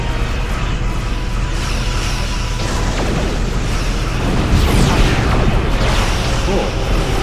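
Heavy crescent wave cannons fire from an Elachi S'Golth escort ship in the space game Star Trek Online, loud sweeping energy bursts layered over dense continuous battle noise, with a stronger blast near the end and someone talking over it.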